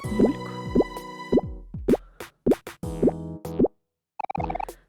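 Cartoonish water plops from the video game Omori, a rapid series of short bouncy tonal bloops with falling pitch, followed after a brief silence by a quick fluttering burst of higher blips.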